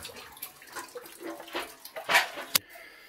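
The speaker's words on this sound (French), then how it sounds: "là on a la cuve qui s'est vidée. On voit bien qu'il y a un goutte à goutte" Water trickling and dripping as an electric water heater tank finishes draining, with a soft steady flow broken by a few louder splashy drips near the end, fairly close.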